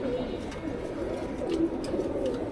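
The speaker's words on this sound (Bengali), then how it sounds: "ভাই এটা একটা আর্মি কবুতর" A male army pigeon coos in a low, steady, repeated murmur close by on a rooftop, with faint chirps above it and no one speaking.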